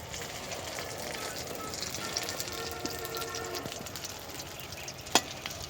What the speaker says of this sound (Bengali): বার মাছগুলো আর একটু কড়া করে ভেজে নিতেছি